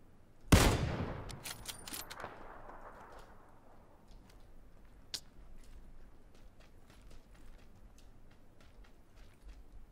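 A single loud gunshot in a video game shooter cracks close by and echoes away in a long fading tail. Faint, scattered clicks and taps follow in near silence.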